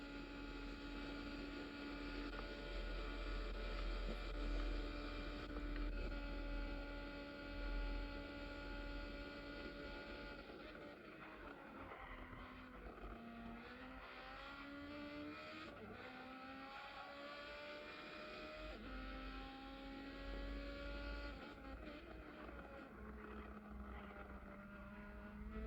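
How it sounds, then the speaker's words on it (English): Super Formula race cars at Spa-Francorchamps in Gran Turismo 7, their engines droning at high revs and shifting pitch as they accelerate, with a layered, continuous roar from several cars. "Listen to the roar of that engine"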